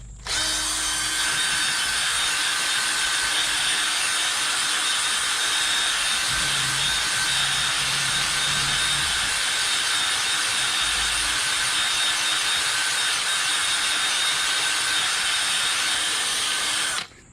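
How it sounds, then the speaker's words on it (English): A power drill with a drum sander attachment grinds steadily and loudly against a rusted, stubborn wheel hub, a continuous abrasive whir without pauses. "what I'm going to use is a drum sander attached to my drill"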